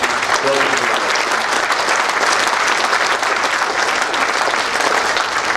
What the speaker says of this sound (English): let us give a big round of applause to Ahmedabad Metro for the great work that they do